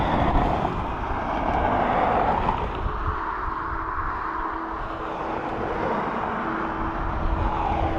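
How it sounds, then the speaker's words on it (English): A Ryanair Boeing 737 arrives at Dublin Airport, a steady broadband jet roar with a faint whine, heard from a distance with wind noise and no talk. "So 737 of Ryanair coming in from Rome next."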